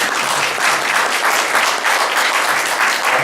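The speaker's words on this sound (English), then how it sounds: "deserve even more applause" Steady, dense applause from a seated audience fills the whole stretch, an even wash of many hands clapping with no speech on top.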